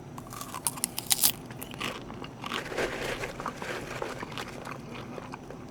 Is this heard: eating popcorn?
yes